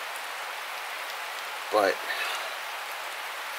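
Steady rain hisses down during a winter solstice overnight hammock camping trip, a constant even wash with one brief spoken word partway through.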